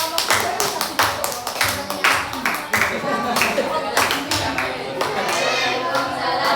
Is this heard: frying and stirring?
no